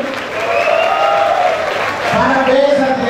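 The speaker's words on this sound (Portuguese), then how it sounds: "Pode aplaudir" Audience applause at a Blue Space club show with a host, a steady, full wash of clapping lasting the whole stretch, with a voice carrying over it.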